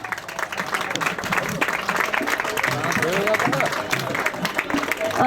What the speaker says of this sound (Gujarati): તો આપણે જોરદાર તાળીઓથી લાભાર્થીઓને વધાવી લઈશું અને એમના ઉત્સાહને જાળવીશું.